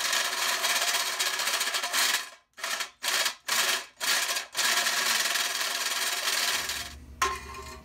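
Harsh broadband grinding of a step drill biting through metal during a power disconnect install, cutting out in several short bursts before running steadily again, close and loud.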